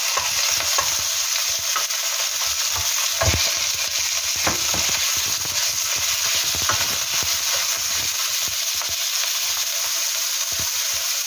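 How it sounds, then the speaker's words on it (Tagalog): Ground pork fries in oil in a hot pan with a loud, continuous close sizzle, broken by scraping stir strokes and clatter, no voices. "pag po mainit ng ating kawali, ilalagay na po natin ang ating giniling"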